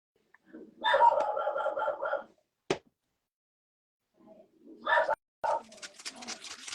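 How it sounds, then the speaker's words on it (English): An upset dog gives a drawn-out whimpering, yelping cry, then a short sharp bark, then more whining bursts, all close and loud between stretches of quiet, and a voice is heard near the end. "I'm not sure why my dog is so upset right now, but you can hear it."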